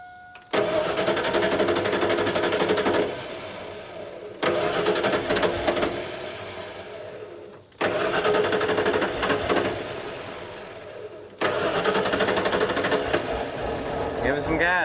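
A 1993 Ford F-150 with a newly replaced IAC valve and throttle position sensor cranks and fires up several times in a row. Each start runs loud and steady for a few seconds before cutting off, and voices talk faintly over it.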